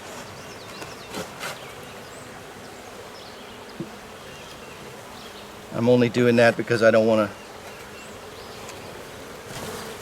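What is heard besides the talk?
honeybees buzzing at the hive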